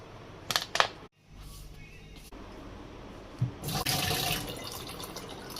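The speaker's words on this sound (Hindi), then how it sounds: "तो दोस्तों ये पानी की बोतल भर ली मैंने।" A water bottle filling from a tap, a rushing stream of water that starts after some brief clatter and runs steadily to the end, close and moderately loud.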